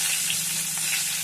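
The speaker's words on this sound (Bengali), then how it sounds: "তেল দিয়ে দিচ্ছি, তেজপাতা দিয়ে দিলাম" Bay leaf frying in hot oil for a Bengali egg curry, a dense, even hiss of sizzling close up, brief and steady with no voices.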